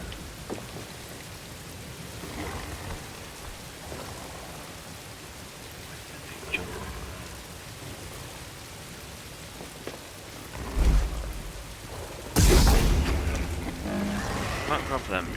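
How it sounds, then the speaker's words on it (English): Steady rain patters in the background in the video game Star Wars Jedi: Fallen Order, joined by a couple of louder rumbling bursts toward the end, like distant thunder. "That's a lovely rain effect, actually."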